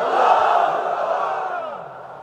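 A crowd at a Bangladeshi religious gathering chants back in unison in answer to a takbir call, a loud massed shout that fades gradually over two seconds.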